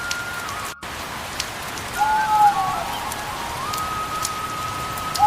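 Heavy rain pours down in a steady, dense hiss of drops hitting surfaces, with a few brief tonal chirps over the top and no speech.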